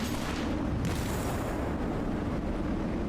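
Bombs exploding in a video game, a dense continuous roar of heavy booming blasts with deep rumble filling the whole short stretch, loud and close, no talking.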